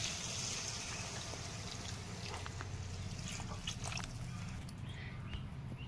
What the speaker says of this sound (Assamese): এতিয়া মই ইয়াতে পানী দি দিম।